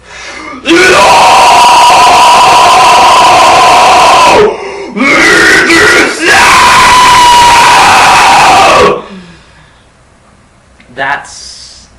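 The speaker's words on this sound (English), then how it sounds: "that's the basic placement of how the scream sounds" A loud, raspy vocal scream held for several seconds, broken by a short gap and a breath, then sustained again before cutting off into quiet.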